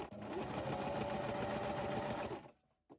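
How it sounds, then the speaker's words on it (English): Sewing machine fitted with a twin needle stitching along fabric, a close, steady mechanical whir lasting over two seconds before stopping, followed by a brief click. "We place our fabric right side up onto the machine and we stitch along our line"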